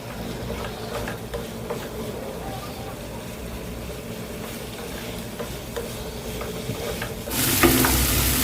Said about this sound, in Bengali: আর এইবার মাছগুলো একটু উল্টিয়ে দিচ্ছি